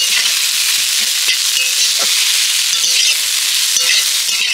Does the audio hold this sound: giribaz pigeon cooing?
no